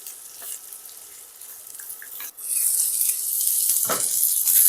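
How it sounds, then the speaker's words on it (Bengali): Winter vegetables are added to a pan and fry for vegetable khichuri; a faint quiet hiss builds after a clatter into a steady, loud bright sizzle. "একে একে বাকি সবজিগুলোকেও দিয়ে দেবো। এগুলোকেও একটুখানি ভেজে নেব।"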